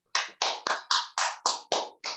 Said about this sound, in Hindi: तालियां आपके लिए होनी चाहिए। तालियां होनी चाहिए।